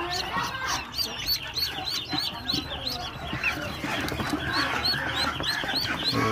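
Newly hatched Mojosari ducklings peeping continuously in a dense, overlapping chorus of high chirps, close and steady throughout with no talk.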